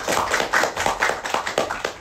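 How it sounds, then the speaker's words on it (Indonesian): A room of people clapping for the behind-the-scenes crew at the close of an Indonesian podcast, a steady patter of many hands lasting throughout, fairly close and with no talking. "Tepuk tangan dulu untuk kru."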